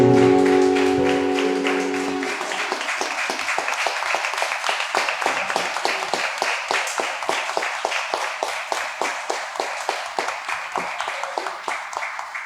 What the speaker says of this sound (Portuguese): Pai, nós oramos agradecidos e te aplaudimos em nome de Jesus Cristo